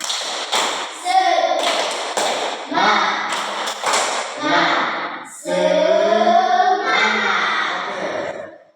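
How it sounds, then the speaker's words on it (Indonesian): Classroom group doing a rhythmic spirit clap (tepuk semangat), loud close patterned bursts of claps in quick sequences, mixed with voices chanting along. "kita berikan tepuk semangat untuk semuanya"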